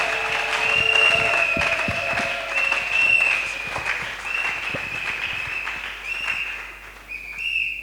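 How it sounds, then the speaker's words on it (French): A church congregation applauds and cheers in a sustained wash of clapping with shouts and whistles rising over it, loud and fairly close, holding steady for several seconds before thinning slightly near the end. "Alors pendant qu'il s'approche, nous l'accueillons avec des acclamations."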